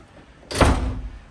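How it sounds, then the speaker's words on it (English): A door swings shut in a rental suite at a lodge in Big Bear Lake, California, giving one soft, close thud with a brief rush of air, and no talk around it. "Shut this door."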